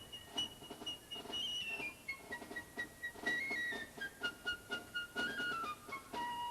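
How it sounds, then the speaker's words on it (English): A piccolo plays a faint, high, bright solo melody in the Lydian mode from Prokofiev's Lieutenant Kijé, with its line drifting downward over soft, rhythmic orchestral pulses in the background. "Prokofiev, in his music for his funny film Lieutenant Kijé, uses this mode with its raised fourth note in this piccolo solo"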